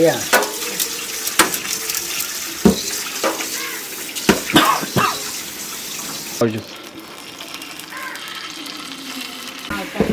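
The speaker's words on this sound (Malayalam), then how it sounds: "പെട്ടെന്ന് തന്നെ ഞങ്ങൾ വറുത്തടിക്കാൻ പോണ്" Freshly caught local pilopi fish frying in a pan give off a sizzling, watery hiss, with intermittent sharp clanks of utensils and quieter stretches near the end.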